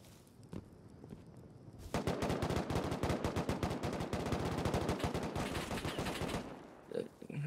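Sustained automatic gunfire in an online survival shooter, an AK in play, a rapid burst of shots starting after a quiet opening and rattling on loudly for several seconds before tapering off.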